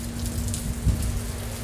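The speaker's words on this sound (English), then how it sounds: "You can hear the rain." Rain falls outdoors near the Mackinac Bridge as a dense, steady patter and hiss. A low constant hum runs underneath, and one brief thump stands out midway.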